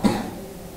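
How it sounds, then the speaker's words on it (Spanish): A single short cough bursts out close by at the start, then trails into quiet room ambience with no speech. "esa tos, por ejemplo"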